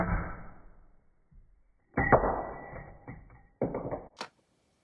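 Someone works the bolt of a Marlin Model 25 rifle in a few quick, sharp metallic clacks and slides. A couple of louder snaps come near the end, followed by a brief high ting, all close with quiet gaps between.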